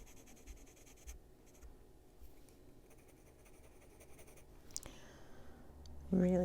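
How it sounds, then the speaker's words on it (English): A scratchy colouring pencil rubs on paper in an adult colouring book, a faint close scratching with soft, quiet talk near the end. "This is a really scratchy pencil."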